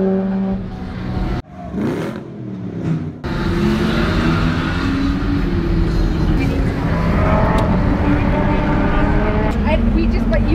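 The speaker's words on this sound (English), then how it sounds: "That is a nice little Porsche." A Porsche sports car at the Silverstone Festival 2023 passes with a loud engine drone that rises and falls. Crowd noise and voices sit underneath, with a brief quieter gap early on.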